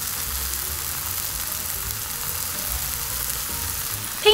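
Enoki mushrooms sizzle and reduce in a gochujang sauce, a constant close hissing crackle that holds evenly throughout, ending with a brief knock.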